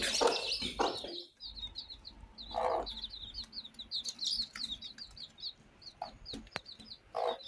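Chicks peep in rapid high-pitched chirps nonstop while hens cluck now and then nearby, with no talking.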